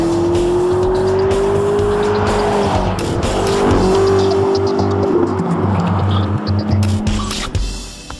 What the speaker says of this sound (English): Testing the XP beta cars here in Idiada mirrors what we do in Formula One testing